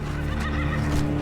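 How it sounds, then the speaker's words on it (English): A horse neighs in the video game Skyrim, a loud whinny rising over steady game background sound that runs through the whole moment. "A horse popped up."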